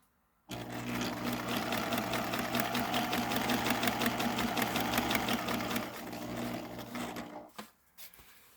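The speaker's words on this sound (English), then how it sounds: "when I restart the sewing is I crease this down so that it stays down better as the sewing continues" A sewing machine stitches cabin window covers in a fast, even run of needle strokes for about seven seconds after a quiet start, then slows and stops with a few handling noises.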